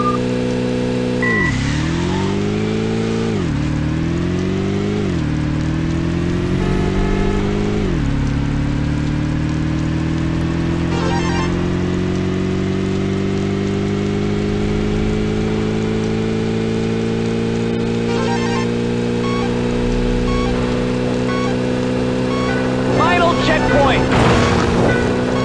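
A Beetle car driven through city streets in the racing game Midtown Madness, its engine revving and shifting up through gears in repeated climbs before holding a steady loud drone, with a voice talking over it.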